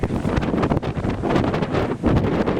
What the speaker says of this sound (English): We're having to shout at one another because it's so damn windy.